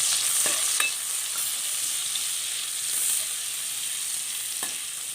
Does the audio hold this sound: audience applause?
no